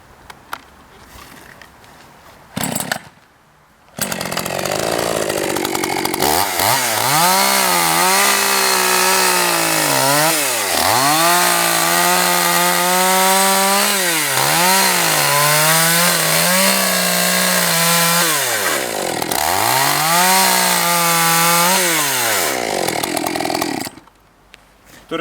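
A chainsaw cuts into a large tree trunk, thinning the diameter from each side before the cut through. The engine idles briefly, then revs hard through repeated cutting surges with short dips between, loud and close.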